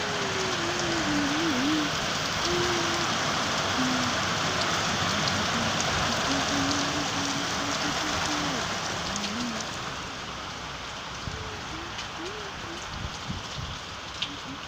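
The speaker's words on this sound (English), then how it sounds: "Look at all of that rain." Heavy rain pours steadily onto surfaces in a dense, loud, continuous hiss, with a faint warbling bird-like call running underneath.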